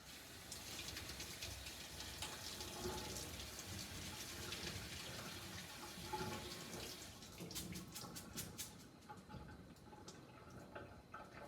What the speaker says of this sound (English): We're going to take it over the sink and we're going to wash it until the water runs clear.